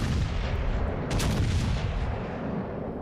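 Heavy battleship guns of the Nelson in World of Warships: Legends fire, giving a dense, continuous rumble of booms with a sharper blast burst near the middle, loud and without talk.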